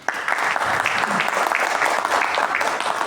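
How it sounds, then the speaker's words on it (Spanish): Audience applause for a writer at a book reading event in Asunción, a steady crowd clapping throughout, dense and sustained at close range. "Aplausos para el escritor."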